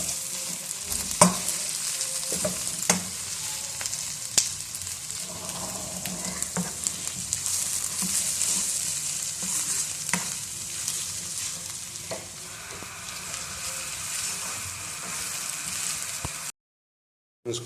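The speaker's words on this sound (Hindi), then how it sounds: "इसको अभी हम थोड़ा फ्राई करेंगे।" Mashed pea paste frying in a pan, a dense, steady sizzle with repeated stirring scrapes and taps of a spoon throughout, close and fairly loud.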